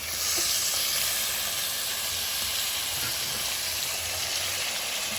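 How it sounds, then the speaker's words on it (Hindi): Chicken sizzling as it goes into a pan of ginger and garlic, a loud, steady frying hiss that holds evenly from start to finish. "अब हम डालेंगे इसके अंदर चिकन को"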